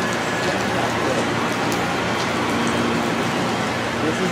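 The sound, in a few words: heavy rain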